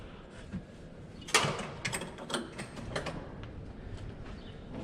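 Latches on an insecticide box from a farm planter being unfastened: a sharp click at about one second in, followed by several smaller clacks and creaks over low background noise, with no talking.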